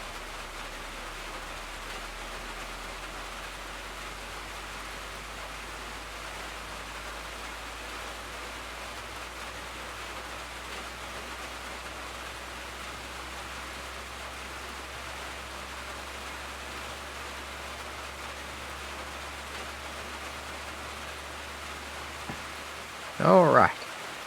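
Steady broadband rain hiss from a train simulator game, pouring continuously at an even level for most of the stretch, with a brief louder burst of other sound right at the end.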